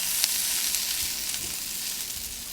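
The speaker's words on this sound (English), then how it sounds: "Starting to get a really nice sear on it." Broccoli sears in a hot pan with a steady, close sizzle and crackle that holds evenly throughout, with no voices.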